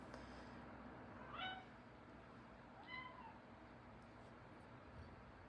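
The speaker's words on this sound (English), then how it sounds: "Now my cat's up here." A pet cat meows twice indoors, two short rising calls a second or so apart, fairly close but not loud, over a quiet room background.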